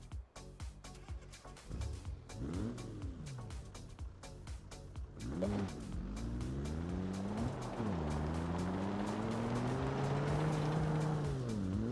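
A Volvo S60R in a racing simulator game starts up and drives off, the engine rising into loud sustained revving with rhythmic clicks and shifting pitch sweeps as it accelerates, close and continuous throughout.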